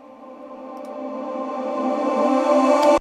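A sustained vocal tone swells steadily louder over three seconds, a reversed reverb tail building up to an abrupt cutoff.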